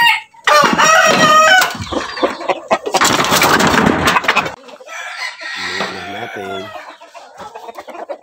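Texas gamefowl roosters and hens in a breeding pen, with loud, close rooster crowing, overlapping clucks and squawks in bursts, and someone talking briefly between the calls.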